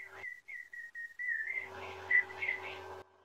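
A single person whistling, short separate notes at first, then a longer wavering whistle over faint breathy noise, close and fairly quiet.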